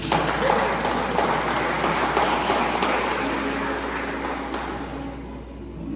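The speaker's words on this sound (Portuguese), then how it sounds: "Você pode aplaudir ao Senhor por isso?" A church congregation applauds in a broad, steady wash of clapping that gradually fades over several seconds, with a low hum and a few voices underneath.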